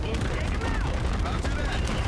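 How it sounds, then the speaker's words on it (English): Rapid ship-to-ship cannon fire in Call of Duty: Infinite Warfare booms again and again in a dense volley, loud and continuous, with a voice faintly underneath. "Ship-to-ship cannons, I love it!"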